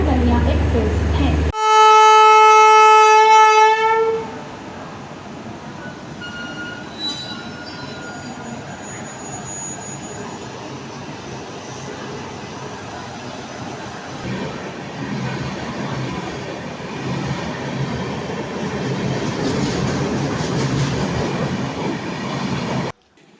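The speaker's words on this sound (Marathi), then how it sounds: "प्लॅटफॉर्म क्रमांक 7 वर आलेली गाडी 20111 जाऊन मुंबई मडगाव कोकण कन्या एक्सप्रेस आहे." Konkan Kanya Express (Mumbai–Madgaon) pulling in at platform 7, a brief horn-like tonal blast followed by a long stretch of steady rumbling rail noise and wheel squeal, loud and continuous.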